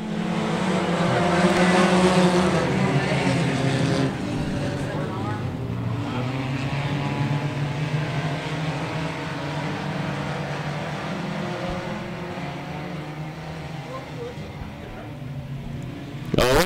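Hornet class race cars circle Brownstown Speedway, a loud steady engine roar with rising and falling harmonic tones throughout, louder in the opening seconds, as a commentator talks over the racing.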